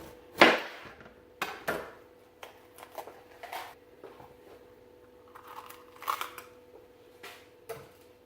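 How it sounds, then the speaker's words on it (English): Knife chopping a bell pepper on a cutting board during home cooking, about a dozen soft, uneven taps spread across the clip, fairly close but quiet, with no talking. "now we're going to dice our bell pepper."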